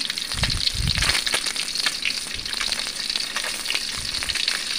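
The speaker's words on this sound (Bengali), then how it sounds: "ডিম আগে সিদ্ধ করে নিয়েছি, ডিমগুলো ভেজে নিচ্ছি" Boiled eggs frying in hot oil, a dense, continuous crackling sizzle with a few low bumps of movement in the pan, close up and steady throughout.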